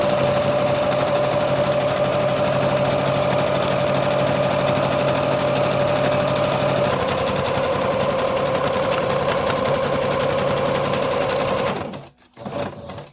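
A sewing machine running a long, continuous stitching pass on fabric, steady and close, its motor tone shifting slightly partway through before stopping near the end with a couple of short final bursts.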